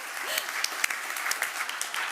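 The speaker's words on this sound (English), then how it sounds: "Round of applause for Jackie." Conference audience in a hall applauding a host on stage, steady dense clapping from many hands throughout, fairly distant and even with a few sharper claps standing out.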